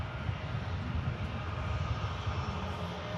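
An easyJet airliner leaving Manchester Airport for Belfast gives a faint, steady, distant jet-engine rumble with a soft broadband hiss, unchanging throughout and with no voices.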